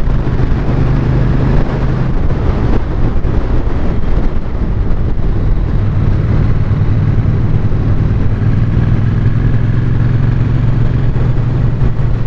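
A motorcycle engine drones loudly under heavy wind rush, its pitch shifting as revs change while the rider downshifts into fourth gear on a fairly busy road between San Simeon and Santa Cruz, California, steady and close throughout.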